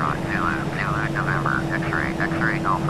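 An Aerosoft A321 airliner taxiing in a flight simulator, its engines giving a steady, continuous drone with a warbling whine that rises and falls throughout, with a voice talking over it.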